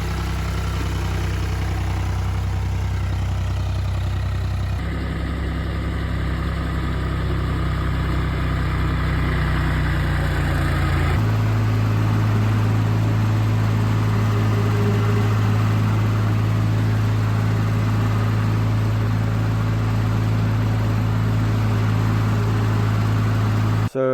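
An older John Deere tractor engine idles with a steady low rumble that changes pitch slightly a couple of times, close and continuous, with no talk.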